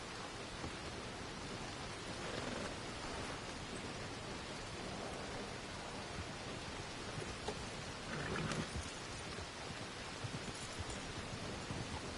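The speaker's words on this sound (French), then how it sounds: "La pluie qui est apparue d'un coup." Sudden rain pours down in a steady, hissing wash of noise, with faint rumbles like distant thunder running underneath, and no voices are heard.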